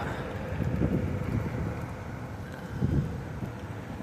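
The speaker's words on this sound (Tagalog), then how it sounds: "Medyo mahangin po ata ngayon dito sa Las Vegas," Strong wind buffeting the microphone outdoors in Las Vegas, Nevada during a scooter ride, a continuous low rumble with gusty surges.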